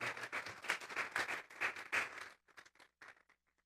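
Congregation clapping together during a church service, a dense burst of applause that thins out into a few scattered, fading claps.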